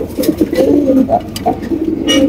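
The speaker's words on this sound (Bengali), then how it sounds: "মাত্র 2000 টাকায় পাইতেছেন খুবই চমৎকার একজোড়া মডার্না কবুতর" Modena pigeons coo in a steady, throaty burble, several overlapping low rolling calls close by, continuing without pause.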